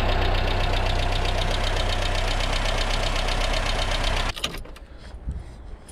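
A Ford Escort Mk3 car engine idles steadily with a regular knocking pulse for about four seconds, then cuts off abruptly, leaving faint background rustle.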